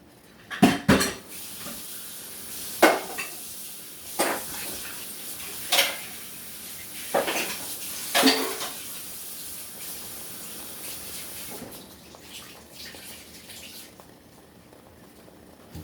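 Food cooks in a pan with a faint steady sizzle, punctuated by several sharp clinks and scrapes of utensils against metal that fade out near the end.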